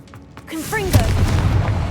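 A Confringo blasting curse goes off in the Hogwarts Legacy video game, landing as a sharp booming burst with a rumbling tail after a brief spoken incantation and some whooshing spell effects.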